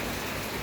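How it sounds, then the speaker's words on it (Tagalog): Heavy rain pours down continuously as a dense, even hiss that fills the whole short stretch, with no voices. "Grabe ulan guys."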